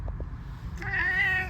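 A house cat gives a short, clear meow close by. It follows a low background rumble and a couple of soft taps, with no voice over it.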